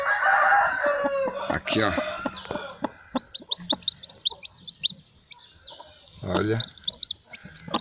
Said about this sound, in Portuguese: Tem uma criação de galinha grande, só que aqui é galinha China.